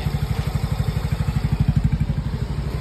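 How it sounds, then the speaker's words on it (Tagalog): A Yamaha Mio Gear 125 scooter engine idles smoothly after a spark plug and cap fix, giving a close, steady low putter with an even rhythmic pulse and no ticking. "Ito yung tunog ng makina niya ngayon."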